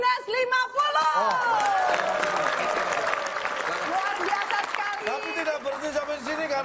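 Audience applause breaks out in a hall, a steady wash of clapping with a few whoops and cheers, voices and music-like tones riding on top throughout.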